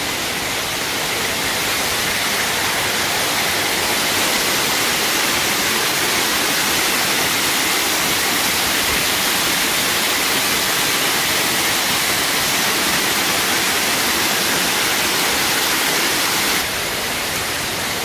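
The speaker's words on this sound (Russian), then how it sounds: "И вот сам водопад." An artificial waterfall at the Zeynep Hotel Resort pours with a steady, dense hiss and roar, loud and unbroken throughout with no talk.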